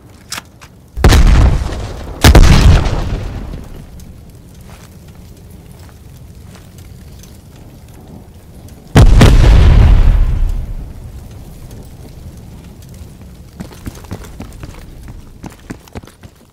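Grenade blasts in the video game Call of Duty: Black Ops Cold War, three loud booming detonations, two close together early on, then another after a pause, each rolling into a rumbling decay, with faint clattering between.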